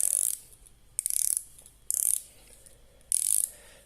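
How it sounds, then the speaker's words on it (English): The rotating bezel on a Viquera Calipso dive watch is turned in four short bursts of rapid, light ratcheting clicks, close and crisp with brief quiet gaps between. "It's not a bad sounding bezel."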